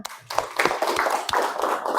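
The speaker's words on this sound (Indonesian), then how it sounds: "Tepuk tangan." An audience claps hands at a school training session, scattered sharp claps forming a brief, moderately loud round that fades near the end.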